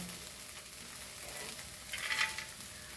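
Fried peanuts being stirred into poha in a pan, with a soft steady sizzle and scraping stir sounds that swell briefly near the end, no voices.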